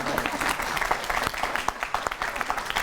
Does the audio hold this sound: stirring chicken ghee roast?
no